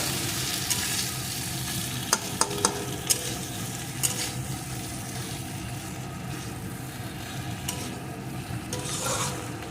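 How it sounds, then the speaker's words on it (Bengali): Egg bhujia being stirred into a brinjal fry in a pan, giving a steady loud sizzle with continuous scraping and stirring throughout and a few sharp spatula taps against the pan, no talking. "যে ডিমের ভুজিয়াটা তৈরি করে রেখেছি সেই ভুজিয়াটা দিয়ে দেবো এটা দিয়ে এক মিনিট মতো আমি এইভাবে একটু মিশিয়ে নেব"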